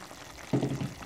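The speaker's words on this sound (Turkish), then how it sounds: "Hemen üzerine çıkacak kadar az su ilave ettim." Water is poured briefly, a short close splash of under half a second, onto fresh fava beans in a cooking pot.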